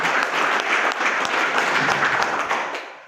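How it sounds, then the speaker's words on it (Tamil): Audience applause for Dr. T.P. Narayanan at an event, dense sustained clapping from many hands filling the room for about three seconds before tapering off at the end. "டாக்டர் டிபி நாராயணன் சார் நல்ல ஒரு கைத்தட்டல் மூலியமா பாராட்டு"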